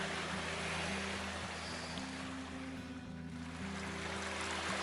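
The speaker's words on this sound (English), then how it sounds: "The path is a river today. Sound of water everywhere." Water runs along a flooded woodland path on the Sugar Loaf in Wales in a steady, full, rushing wash that continues without a break.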